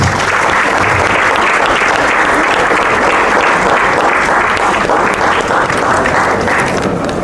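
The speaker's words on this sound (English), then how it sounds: "Ladies and gentlemen, please give him a round of applause." A TEDx event audience breaks into sustained applause for a speaker, a dense, steady roar of many clapping hands filling the hall for over seven seconds without pause.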